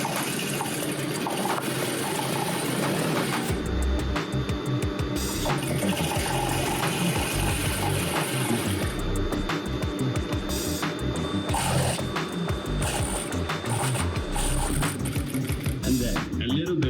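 Sewing machine stitching a 1.5 cm seam on a wrap dress: a continuous, fast mechanical whir and rattle runs close and loud throughout, with a voice talking over it.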